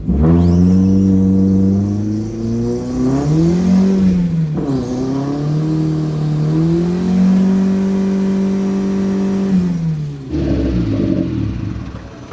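A car engine revs hard on a homemade treadmill dynamometer, its loud droning note climbing, dipping and surging again for several seconds before cutting off abruptly.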